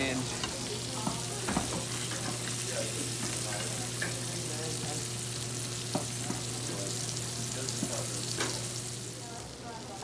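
Thick pork chops sizzle and sear steadily in a hot pan, a dense continuous crackle with scattered louder pops, fairly quiet and close, with no talking.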